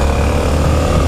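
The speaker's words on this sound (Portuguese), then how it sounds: "Vocês vão escutar só o torque da moto" A Honda XRE 300 motorcycle fitted with a Dore exhaust gives a brief, steady, close engine rumble with a deep throaty tone and no voices.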